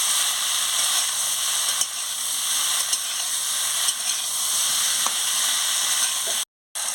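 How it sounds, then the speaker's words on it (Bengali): Spices with a pinch of sugar are stir-fried in a pan for a Bengali fish and cauliflower curry, giving an even, soft sizzling hiss with a few faint clinks and a brief cut near the end. "সামান্য একটু মিষ্টি দিয়ে দিচ্ছি, দিয়ে ভালো করে কষিয়ে নিচ্ছি।"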